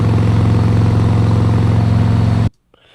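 A car's exhaust drones steadily and loudly with a low, even rumble while driving at 60 miles per hour, then stops abruptly, leaving near silence.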